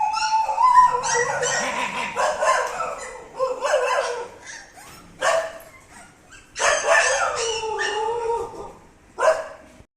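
Several dogs at an animal rescue shelter in Noida, including paralyzed dogs, barking, yipping and whimpering in repeated close bursts with short pauses between them. No talk is heard.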